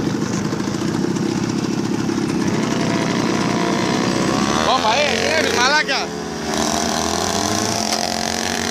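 A Yamaha V50 Mate small motorbike revs loudly up close, its buzzing two-stroke engine rising and falling in pitch as it pulls away, with someone shouting briefly over it.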